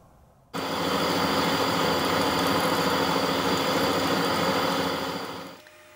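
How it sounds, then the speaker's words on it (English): A metric metal lathe fitted with a 60-degree carbide screw-cutting tip cuts an imperial thread. Its steady mechanical hum and cutting noise start suddenly, run evenly and close up for about five seconds, then wind down. "because I'm cutting an imperial thread on a metric lathe, I have to be careful not to disengage the half nut"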